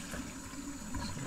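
Soaked broccoli seeds being drained, a short faint rush of water pouring and splashing, steady and close.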